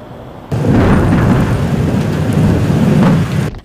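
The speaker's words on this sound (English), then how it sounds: "Thunder roared and lightning strikes." A rare late-summer lightning storm over Santa Barbara: a loud, sustained roll of thunder swells up over steady pouring rain and rumbles on for several seconds before fading, with no voices.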